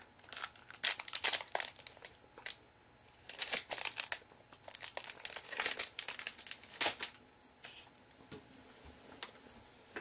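A protein bar wrapper crinkles up close in irregular crisp bursts of crackling plastic, with short pauses between handfuls and quieter rustles near the end.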